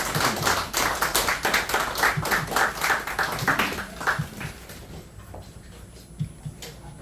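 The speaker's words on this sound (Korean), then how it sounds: "힘찬 박수 부탁드립니다" Audience clapping at a Korean constitution-defense group's certificate ceremony, a burst of hands filling the first few seconds then thinning into scattered claps and taps toward the end.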